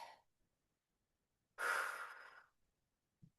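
A single deep breath during a morning stretching session, drawn as one long, clear inhale close to the listener, with a brief faint sound before it and a small soft noise after.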